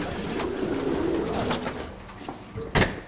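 Pigeons coo softly in a pigeon-rearing barn, low murmuring calls blending into a steady ambient hum, followed by a brief sharper sound near the end.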